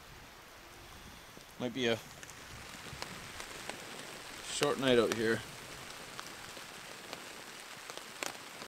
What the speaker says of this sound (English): Rain is coming in, the wind is coming in too.